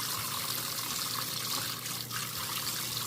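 Persimmons are rinsed under a running kitchen tap, a soft, steady trickle and patter of water over fruit that continues evenly for a few seconds at close range, with no voices.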